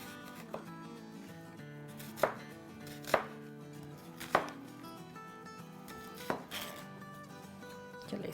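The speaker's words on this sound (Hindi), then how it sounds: "तो हम इसके बड़े बड़े चंक्स काट लेते हैं" A knife cuts celery, carrots and onion into large bite-size chunks for chicken dumpling soup, giving a handful of distinct, spaced thuds on a board over quiet background music.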